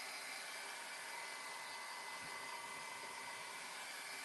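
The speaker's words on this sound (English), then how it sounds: "let's dry these real quick. I don't have my regular dryer, so it's going to take a little longer." A substitute dryer, not the usual one, blows on freshly made craft items with a steady, loud whooshing hum that holds unchanged for about four seconds, with no talking.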